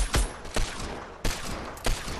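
Gunfire in a shooter video game: four sharp shots spaced irregularly, each a loud crack with a short decay, over a low steady background and no talk.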